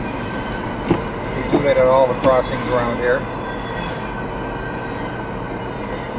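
Norfolk Southern freight train 22K rolling past a snowy railroad crossing with red flashers, a steady rumble of rail cars with brief horn-like tones, heard close and continuous while someone talks over it.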